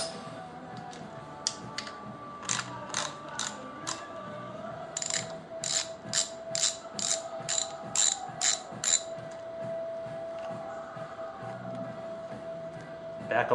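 Ratchet wrench backing off cylinder head nuts on a Datsun L series engine, close and clear: bursts of rapid clicking pawl ratchets in short rhythmic runs, with a steady faint tone underneath and no talking.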